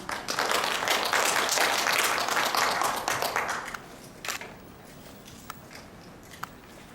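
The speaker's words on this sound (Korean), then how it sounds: "모두 박수로 맞이해 주시기 바랍니다" At a regional tourism symposium, an audience applauds to welcome a speaker with a dense burst of clapping that fades after a few seconds, leaving a few scattered claps in a quiet room.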